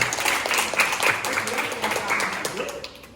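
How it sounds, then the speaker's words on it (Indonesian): Classroom applause in a Catholic religious education class, a continuous crowd of students clapping for several seconds, moderately loud, with voices talking beneath it. "Tepuk tangan untuk beliau."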